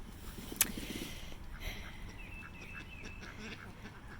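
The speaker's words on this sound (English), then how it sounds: "As is Petunia, the gray runner duck in the back there." Ducks, including a gray runner duck, give scattered faint quacks and calls at a distance over a quiet outdoor background, with one sharp click near the start.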